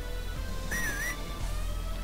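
A short, rising and falling whistle from a Sega CD video game played on the PicoDrive emulator sounds once over a steady electronic hum.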